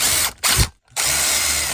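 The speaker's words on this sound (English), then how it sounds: "now I'm going to just take a small diameter drill bit and make that a little bit bigger." A small power drill with a small-diameter bit whirs loudly in two bursts while enlarging a hole, briefly stopping and stuttering in between before running steadily again.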